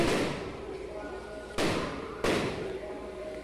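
Fireworks burst at a night-time village temple festival during the Aadi Sedal celebration: a steady roar of crackling with two sharp, loud booms about a second apart, close by.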